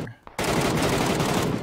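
Loud, continuous automatic gunfire from a rifle in the battle royale game PUBG, a dense rapid burst starting abruptly after a brief quiet moment and running steadily to the end.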